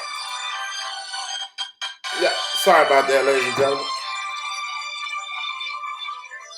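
A mobile phone ringtone sounds for about a second, then someone talking to an audience apologises over a steady background hum.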